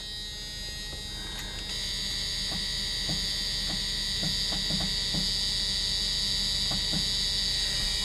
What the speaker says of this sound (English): Oh my gosh, listen to that buzzer.